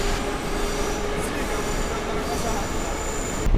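A Moscow metro train rumbles steadily with a high wheel squeal running over it, loud and close throughout.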